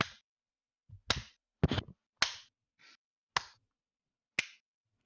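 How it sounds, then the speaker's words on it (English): Several sharp, sparse hand claps, about six in a row, spaced unevenly, close and crisp against near silence. "behind you, you hear a clapping."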